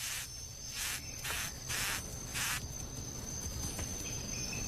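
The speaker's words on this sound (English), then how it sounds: "By rubbing rough bodies against wing cases, patent leather beetles are the most talkative insects of all." Patent leather beetles stridulating inside a rotten log, rubbing rough bodies against their wing cases, giving a series of about five rhythmic raspy bursts, close and fairly quiet, with no talk.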